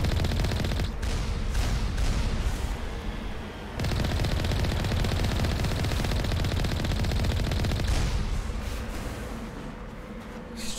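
An Alliance heavy turret fires in the Mass Effect game on Earth's moon, a loud rapid stream of gunfire that runs almost nonstop, with a short break partway through and explosive booms mixed in.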